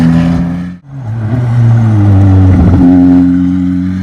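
A Ferrari 296 Challenge race car passes on track, its engine rising loud and close, sweeping down in pitch as it goes by, then revving hard and steady into the distance.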